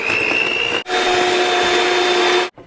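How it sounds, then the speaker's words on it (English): An electric mixer creams organic cane sugar with vegan butter for a pound cake, a loud steady motor whine that cuts out briefly, runs on, then stops. "We'll cream that together like this."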